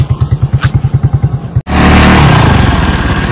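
Motorcycles ridden in to park at a spot in San Joaquin, Iloilo, first idling with a steady, rapid low thump, then breaking into a loud, close, sustained rev with a roaring engine drone.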